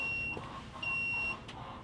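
A Gooloo GT4000 jump starter in boost mode gives two steady electronic beeps, each about half a second long, separated by a short pause, heard close up over a constant background hum.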